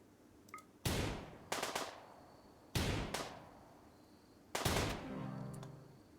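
Pistol shots fired in the video game RimWorld: four sharp, loud cracks, the second a quick double shot, spaced across a few seconds, each with a short decaying tail, with no talking.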